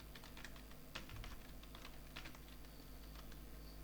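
Keystrokes on a computer keyboard while writing in a code editor, irregular clusters of soft taps spread across several seconds over a steady low hum, with no talking.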